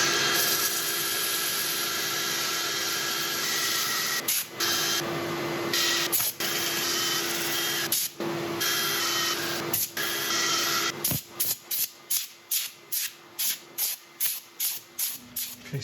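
A highly figured maple bowl is sanded as it spins on a wood lathe, a loud continuous hiss and whine broken by brief pauses, turning into rapid repeated pulses near the end, with no talk.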